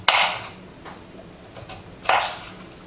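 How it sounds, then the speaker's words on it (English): A knife slices a carrot diagonally on a cutting board, giving two distinct sharp chops about two seconds apart with faint lighter taps between, close and fairly loud. "there's 1 carrot diagonally cut"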